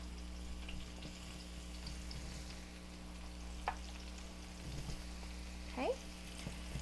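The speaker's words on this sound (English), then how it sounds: "So let's go ahead and put in our eggplant. Ooh, you can hear that sizzle." Eggplant pieces sizzle in hot oil in a pan for a tomato dish, a steady faint frying hiss with a few sharper pops and clinks near the end, no talking heard.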